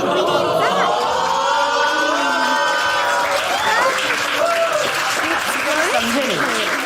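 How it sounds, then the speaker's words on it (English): Loud, continuous audience applause fills the space, a dense wash of clapping with cheering and crowd chatter running underneath throughout. "Welcome with a huge round of applause, Vivek Samdare!"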